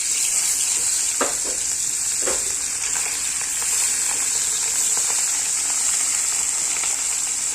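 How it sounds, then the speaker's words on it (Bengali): Nigella seeds sizzle in hot oil while fish is being cooked, giving a steady, bright crackling hiss that runs the whole time with a few faint clinks and stirring touches close by. "তেলের উপর দিয়ে দিলাম কালো জিরা"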